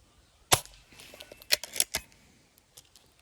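Several sharp, snappy shots from a Hatsan 25 air rifle fired one after another at an uneven pace, with faint clicks and handling noises between them.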